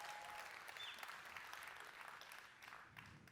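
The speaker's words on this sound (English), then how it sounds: "A huge round of applause for the man who made all of this happen in his head and then made it happen in reality" A conference main-stage audience at NFC23 applauds steadily for the event's organiser, a dense, even wash of clapping that holds at a fairly soft, distant level and tapers slightly toward the end, with no voices.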